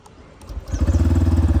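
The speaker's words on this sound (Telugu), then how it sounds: "ఇంజిన్ కిల్ స్విచ్ అయితే ఆన్ చేశాను ఇప్పుడైతే క్రాంక్ చేస్తాను చూడండి" A 2025 Yamaha FZS Fi Hybrid motorcycle is cranked with a brief, quiet whir, then the engine catches and settles into a loud, even, throbbing idle nearby.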